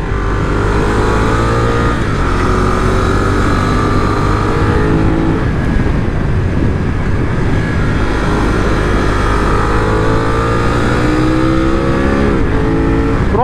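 A 2024 BMW F900R motorcycle engine revs hard and accelerates, a loud, close, continuous roar climbing through the gears with rising pitch sweeps and wind buffeting, no talk over it.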